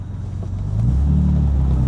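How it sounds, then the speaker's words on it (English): Low rumbling engine of a 1960 Jaguar XK150 3.8 S fixed-head coupe, heard from inside as it slows for a roundabout and shifts down through the gears, a steady close drone without talk. "So now we're slowing down for a roundabout. Brakes are lovely and responsive. Gear change is really smooth"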